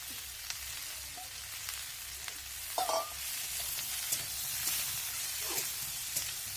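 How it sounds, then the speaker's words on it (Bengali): Ginger paste sizzles in a pan while being stirred for a thin tangra fish curry, a steady frying hiss broken by occasional scraping and clinking from the stirring, close by, with no voices. "আদা বাটাটা দেওয়ার পর আমি এটাকে ভালো করে আরও কিছুক্ষণ একটু ভেজে নিচ্ছি।"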